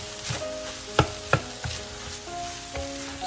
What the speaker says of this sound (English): Now time to add the marinated white rice into the wok.